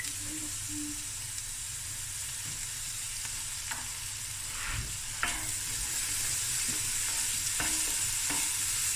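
Garlic and ginger sizzling in a pan for a Cape Malay lamb curry, a constant close frying hiss with a few light stirring taps, no talk.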